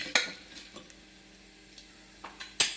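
Lentils and a few lumps of asafoetida frying in a pan for Chettinad rice upma, stirred with a spoon: faint, sparse scrapes and clicks against the pan over a quiet hiss, no voices.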